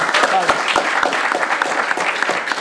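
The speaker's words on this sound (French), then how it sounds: "On applaudit, on applaudit." Spectators at a school basketball match applaud after the final result, uneven clapping mixed with crowd chatter and a few sharp louder claps close by.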